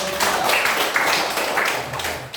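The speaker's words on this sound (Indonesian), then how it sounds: "Tepuk tangan dulu." Schoolchildren in a classroom clapping their hands together, a short burst of mixed, uneven claps that stays fairly close and steady for about two seconds.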